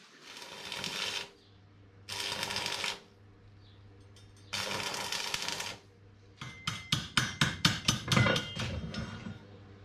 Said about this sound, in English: Great, let's weld it then.